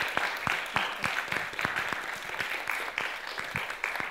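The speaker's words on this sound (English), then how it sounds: "So one more round of applause to everyone." Audience applause for FameLab 2018 science communication contestants in Prague, a steady wash of many hands with sharp individual claps standing out, fairly close and continuous throughout.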